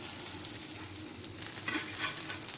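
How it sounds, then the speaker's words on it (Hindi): Chickpea chicken kababs fry in a pan over medium heat, a dense, continuous close sizzle with steady crackling and no talking. "मीडियम आंच पे अब आपने इनको फ्राई करना है अच्छा सा कलर आने तक"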